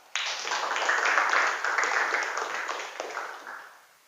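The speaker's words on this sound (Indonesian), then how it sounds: "tepuk tangan dulu untuk Haikal." Classroom applause from students during a lesson, a steady burst of clapping lasting about four seconds and fading toward the end, fairly close and without talk over it.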